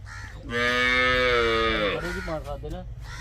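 A Jersey cross cow on a dairy farm gives one loud, close, drawn-out moo lasting about a second and a half, followed by a few shorter, lower grunting calls.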